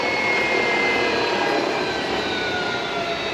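A helicopter flies over a camping and fishing spot, its steady, loud roar filling the air without a break and holding at the same level throughout.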